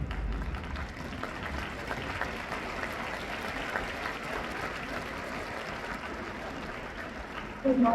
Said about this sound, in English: give her a round of applause for support